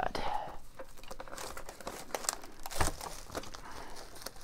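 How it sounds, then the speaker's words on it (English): Cardboard packaging and wrapping on a 2010-11 Panini Luxury Suite hockey card box being cut open down the back, a steady close crinkling and tearing rustle with sharper cracks scattered throughout. "Let's cut it down the back like that."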